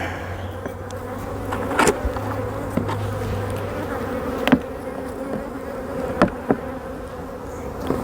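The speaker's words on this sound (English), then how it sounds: "we don't have very many bees in here" Steady insect buzzing fills the scene, a dense continuous drone of bees around a sparsely populated hive with occasional louder passes close by, punctuated by light taps.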